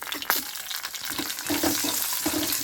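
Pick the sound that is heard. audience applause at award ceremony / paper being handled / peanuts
peanuts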